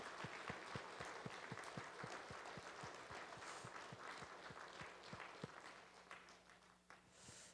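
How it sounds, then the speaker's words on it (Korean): A church congregation claps together after a worship song, steady rhythmic applause at moderate distance that gradually thins and fades toward the end. "우리 다시 한번 박수로 격려할까요?"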